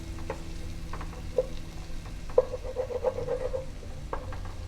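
Onions cooking in a pan over medium heat for corn chowder, giving a low, steady frying sizzle with a few soft stirring clicks and scrapes close by, no voices.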